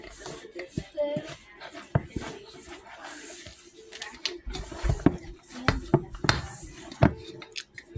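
Garlic bread mix from a box is stirred in a bowl, giving scattered scraping clatters and knocks of a utensil against the bowl at an uneven rhythm, close and fairly quiet.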